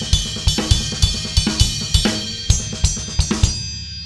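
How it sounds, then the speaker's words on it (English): The bell of a ride cymbal played in a 16th-note groove on a drum kit, with ringing pings over a thudding kick and snare, close and loud for about four seconds before the ring fades. "Maybe the bell of the ride."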